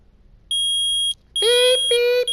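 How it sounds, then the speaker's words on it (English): Electronic beeping from a metal detector in the Phoenix Wright: Ace Attorney courtroom game, one long high tone, then two longer, harsher buzzing beeps with a brief gap between them. "I permit the use of the metal detector right now."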